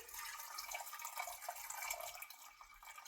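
Water pours and splashes softly into a metal pressure cooker holding chickpeas in an uneven, gurgling stream, faint and close, with no talking.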